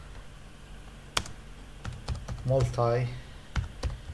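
Computer keyboard keys being typed as a Linux systemctl command is entered on a CentOS 8 machine, a handful of sharp separate clicks spread out, with a voice speaking briefly in the middle.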